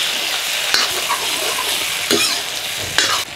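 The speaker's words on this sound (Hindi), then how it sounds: "अब इसमें हम कटे हुए आलू को डाल देंगे। आलू को भी थोड़ा सा भूनेंगे हम थोड़ी देर तक।" Chopped potatoes fry with onions browned to red in a pan for a village-style Holi nimona, a steady close sizzle broken by a few sharp scrapes of stirring, with no talking.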